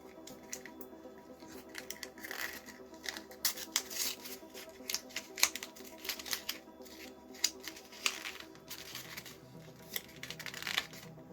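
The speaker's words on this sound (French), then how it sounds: "on va ouvrir la deuxième boîte" Second Lego Back to the Future box being opened by hand, with quiet, close crinkling, tearing and rustling of cardboard and plastic in irregular bursts. No talking.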